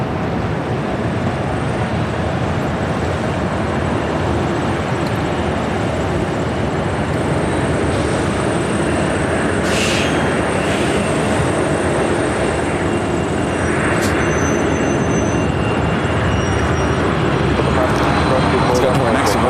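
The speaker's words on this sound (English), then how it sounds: "This is the United 777-200ER heading to Honolulu." A United 777-200ER airliner bound for Honolulu rumbles at LAX with a loud, sustained jet roar, and someone talks over it at points.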